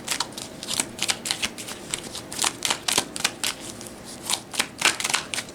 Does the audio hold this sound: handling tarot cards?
yes